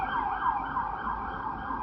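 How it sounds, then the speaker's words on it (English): A wailing emergency siren rises and falls steadily throughout, fairly loud and continuous, with faint road rumble underneath and no voices. "Police siren or a paramedic."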